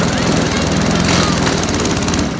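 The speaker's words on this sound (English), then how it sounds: "You're mowing, you're taking too long." A push lawn mower runs loud and close, its engine droning in a steady rapid pulse for the whole stretch before easing off slightly at the end.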